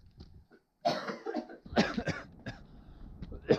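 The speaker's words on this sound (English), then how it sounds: "the common Khumbu Valley Cough" A trekker's altitude-illness cough from the Khumbu Valley, heard as several close, harsh bursts spread over a few seconds, with short pauses between them and a final sharp cough at the end.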